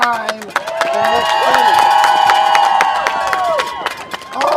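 Crowd at a school-funding rally in Scranton cheers loudly and steadily, a sustained roar with whoops and scattered claps running through the whole stretch, with a voice rising above the noise.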